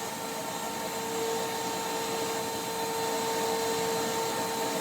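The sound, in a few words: workshop dust collection system running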